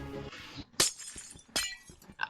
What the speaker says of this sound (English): You broke glass.